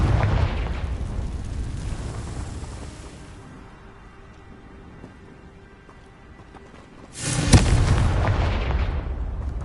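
A Confringo blasting spell in the Hogwarts Legacy video game sets off a broad, roaring blast that slowly fades into a low rumble, followed by a sudden, sharp second boom near the end.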